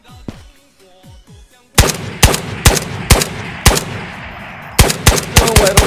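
Gunfire in Ghosts of Tabor, in the Matka Underground area. A few faint knocks come first, then a series of about eight loud, sharp shots rings out in uneven bursts close by.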